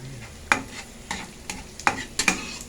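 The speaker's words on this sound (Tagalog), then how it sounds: "Magsasangag ako ng kanin, partner sa maling." Leftover rice with egg is stir-fried into sinangag. About five sharp spatula scrapes and knocks hit the pan over a light, close sizzle.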